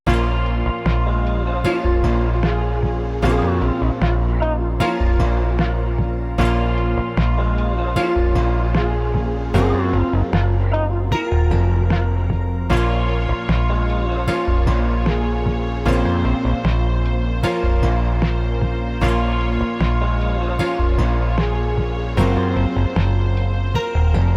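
A looping sampled music groove with a warm, vintage feel, steady beat and layered tones, playing continuously with no voices.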